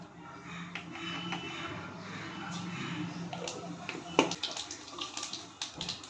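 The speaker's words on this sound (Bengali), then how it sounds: "এর মধ্যে আমি তেল দিয়ে দিয়েছি, এর মধ্যে আমি গোটা জিরে ফোড়ন দিয়ে দেবো।" Whole cumin seeds sizzle and crackle steadily in hot oil in a home kitchen, a continuous close frying hiss with a few sharper pops toward the end.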